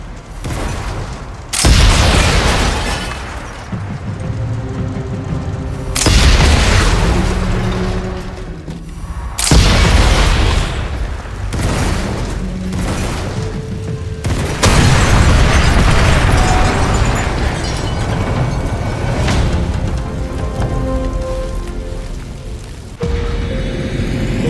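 Tanks exploding in the war shooter Sniper Elite 5, with several heavy, booming blasts spaced seconds apart, each followed by rumbling debris and lingering mechanical noise, loud and close with no talking.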